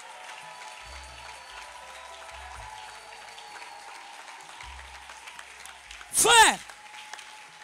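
A church congregation applauds Jesus with steady, fairly soft clapping that carries on throughout, and a brief louder burst comes near the end.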